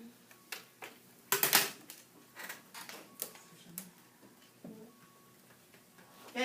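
Calculator keys being pressed, a series of irregular small clicks and taps, close by, with a couple of louder knocks among them.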